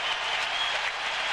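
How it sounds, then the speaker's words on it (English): Baseball stadium crowd applauding and cheering in a sustained, dense wash of clapping and noise during a ninth-inning game between the Giants and the Astros, loud and unbroken with no commentary over it. "Listen to the crowd."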